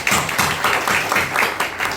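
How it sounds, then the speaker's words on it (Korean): A Korean church congregation welcomes missionaries with loud rhythmic clapping, a run of evenly spaced bursts close to the listener with no talking over it. "환영하면서 큰 박수."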